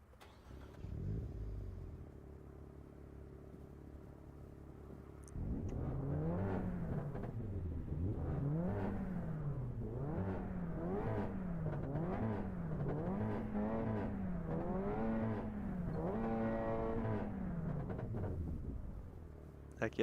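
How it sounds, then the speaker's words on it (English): An engine starter in Assetto Corsa EVO turns over repeatedly without the car firing, making a steady rhythmic whirring cycle of about a dozen rising and falling cranks, close and fairly loud after a brief quieter start. "you can run the starter without actually starting the car."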